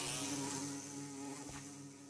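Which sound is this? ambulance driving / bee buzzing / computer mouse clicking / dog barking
bee buzzing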